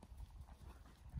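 Soft, low hoofbeats thud in a steady rhythm as a horse moves during a riding lesson. The sound is faint and muffled and no one speaks.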